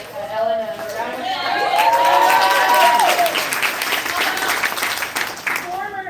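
Crowd at a Houston Education Association live event bursts into applause, whoops and shouted cheers, loud and sustained, with excited voices rising over the clapping.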